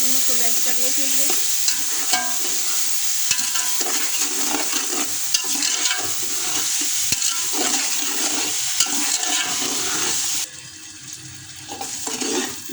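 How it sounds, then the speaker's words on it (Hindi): Sugar with a few drops of water melts and bubbles in a pan for a Pakistani mutanjan sweet rice, giving a steady close sizzle with stirring scrapes, then briefly quieter near the end. "ये देखें जी, चीनी जो है हमारी मेल्ट हो रही है।"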